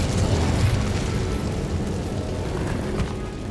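The Incendio fire spell in Hogwarts Legacy releases a steady, dense roaring whoosh of flame that holds loud and continuous throughout, with no voices over it.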